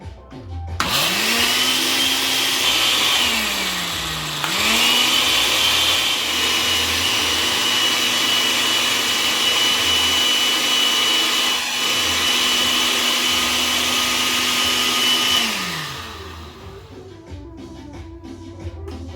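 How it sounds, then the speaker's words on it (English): A blender purees tomato and onion, whirring loudly and continuously for about fifteen seconds, its motor pitch dipping briefly once before settling, then winding down and stopping. "Put it in the blender, and we're gonna blend it till it's get a nice tomato puree."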